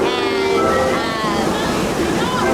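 Steady rushing and splashing of a waterfall among barrel bridges and caves at Camp Snoopy in Knott's Berry Farm, loud and continuous, with faint crowd murmur and tonal park sounds mixed in.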